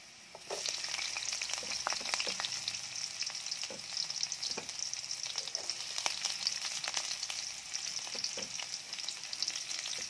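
Garlic and onion fry in a pan, a steady bright sizzle with frequent spatula scrapes and taps, close and continuous after a quiet start, with no talking.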